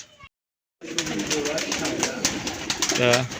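Rajshahi Giribaz pigeons cooing indoors, soft throaty coos and rustling after a brief silence, continuing close by with some overlapping bird noise.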